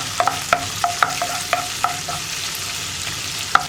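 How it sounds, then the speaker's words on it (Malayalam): Chopped ginger frying in hot sunflower oil for masala bread, a soft crackling sizzle under repeated sharp taps and scrapes of a spoon stirring the pan, close and fairly loud, no voices. "ഇതിലേക്ക് നമ്മൾ മുറിച്ച് വെച്ചിരിക്കുന്ന ഇഞ്ചി ചേർക്കാം. ഇഞ്ചി ഒന്ന് ചൂടായി വരണം."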